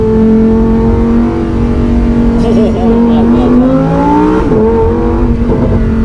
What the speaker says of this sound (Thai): V10NA ครับผมนี่ Lamborghini Huracan STO นั่นเองครับผม